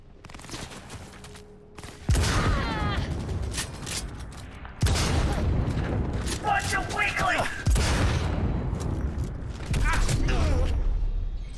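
Rifle fire in the Cyberpunk 2077 video game, with several sharp, loud bursts of shots recurring through the fight, mixed with mechanical game effects and a voice talking underneath.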